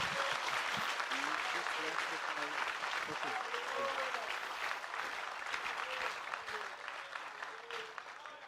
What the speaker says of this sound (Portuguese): Let's give the Lord a hand of praise.